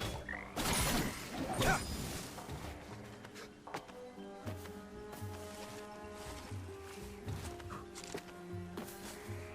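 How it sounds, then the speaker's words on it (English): Game enemies in Prince of Persia: The Lost Crown give off frog-like croaks, with a few bursts near the start and then fainter repeated croaks over steady game music and ambience. No one speaks. "Why did it sound like frogs?"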